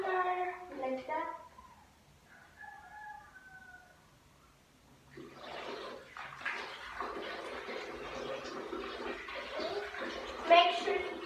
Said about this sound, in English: we're going to shower her again by washing her like that